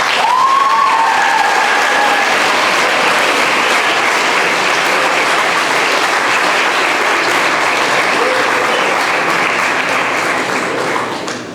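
Sustained audience applause after a senior speech fills the room, a steady dense clapping wash at full volume that holds for about eleven seconds before easing slightly at the end, with no talking over it.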